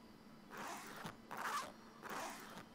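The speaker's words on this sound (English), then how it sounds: "Oh, it's another zipper." Three quick zipper pulls from the Super Mario Odyssey video game, each a short rasping swipe spaced about a second apart, clear and close with no talk over them.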